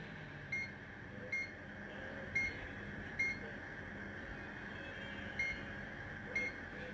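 A multimeter in continuity mode gives six short, faint beeps at uneven intervals over a steady background hum, tested on a battery fuel gauge IC circuit.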